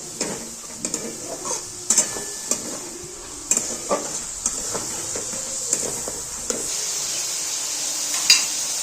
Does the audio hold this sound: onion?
yes